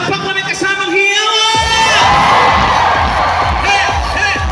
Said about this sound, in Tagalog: Gusto ko makarinig na palakpak na may kasamang hiyaw